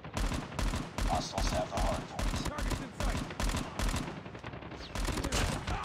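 M16 rifle fire in Call of Duty, rapid loud bursts of automatic shots in quick succession, close and dominant, with a few short pauses between volleys.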